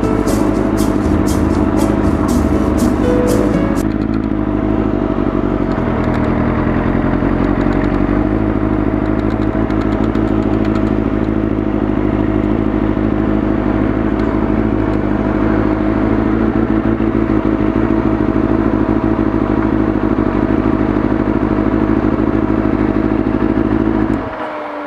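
A Kawasaki Ninja 250 motorcycle rides down a street, its engine droning loudly and steadily close to the microphone. The tone shifts slightly partway through, and the engine cuts off abruptly at the end.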